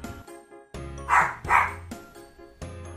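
A dog gives two loud, close barks in quick succession, framed by softer yips before and after, with no people talking.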